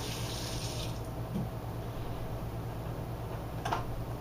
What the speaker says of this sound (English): Let me rinse my hands quickly.